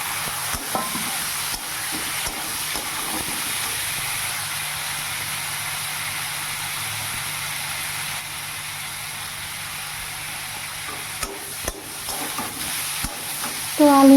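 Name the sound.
sautéing spices, tomato and chili in pan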